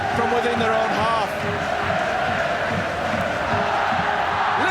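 Crowd roaring on the terraces at a Warrington versus Wigan rugby league match, a dense continuous swell of voices and shouts at a steady level throughout, with a commentator talking over it.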